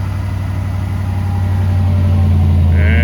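A cold 2000 GMC 4x4 truck engine runs steadily at idle just after starting, a loud, close, continuous low rumble with a faint higher whine near the end.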